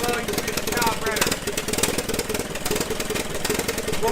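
A Massey Harris Pacemaker 12-20 orchard tractor engine runs steadily, a close and loud rhythmic chugging throughout.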